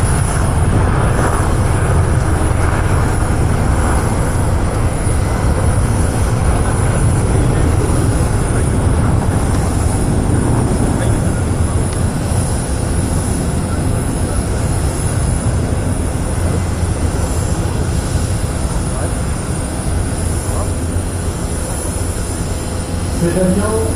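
Engine and wind roar from a Dassault Falcon business jet at the Paris Air Show at Le Bourget, a steady loud broadband rumble lasting throughout.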